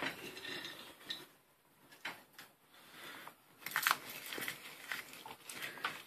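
Walnuts broken apart by hand for chocolate chip cookie dough give off dry, crinkly cracks and crunches in short irregular bursts, close by and fairly quiet.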